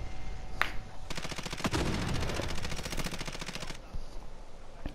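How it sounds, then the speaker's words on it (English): Gunfire in the video game Warzone: a few sharp single shots, then a long, rapid automatic burst of evenly spaced shots, loud and close, followed by a final shot. "he literally shot me in the shoulder"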